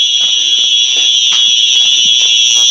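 A Simplex 4903 9236 fire alarm sounds continuously and loudly, a steady piercing tone held throughout with faint room noise beneath.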